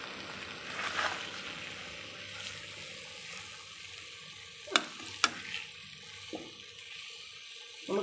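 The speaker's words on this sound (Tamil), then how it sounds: "கிண்டும் போது கொஞ்சம் லாவகமாக நம்ம கரண்டியை வச்சு கிண்டணும்" Potatoes fry in hot oil with a steady soft sizzle while a ladle stirs them, giving a few sharp metallic scrapes and clinks against the pan, close and fairly quiet.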